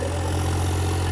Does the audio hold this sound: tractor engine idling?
yes